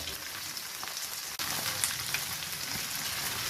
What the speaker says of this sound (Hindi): अब भिंडी और प्याज जो है ये फ्राई हो रहे